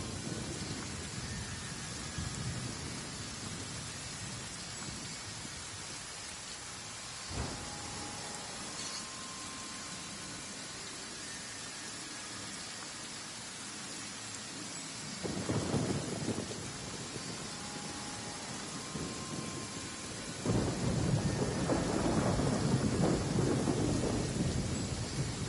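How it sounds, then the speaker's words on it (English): Steady rainfall in the game Genshin Impact, with deep rolls of thunder breaking in several times and the downpour swelling heavier toward the end; no one speaks. "I like the rain"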